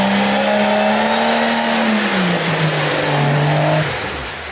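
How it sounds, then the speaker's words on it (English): A Cherokee's engine revs hard and steady on a rough off-road trail while a rear wheel spins free on a failed half axle, a loud sustained drone that shifts pitch and then eases off near the end. "The rear right one is spinning."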